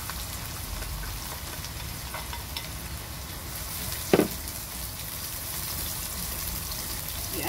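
Garlic and onion fry in a pan with a steady crackling sizzle, and a brief clatter of stirring sounds midway through.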